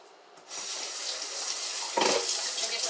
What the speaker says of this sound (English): I'll get the water running for a second so I can rinse my mixed vegetables.